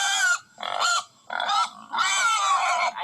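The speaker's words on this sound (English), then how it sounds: "They're pigs." Pigs on a farm give a run of loud, close grunts and squeals in four or five choppy bursts separated by short gaps.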